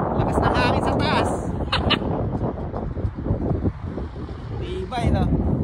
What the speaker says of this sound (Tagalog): Lakas ng hangin sa taas